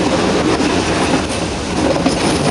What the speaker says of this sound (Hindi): देखिए टनल से हमारी ट्रेन पास हो रही है।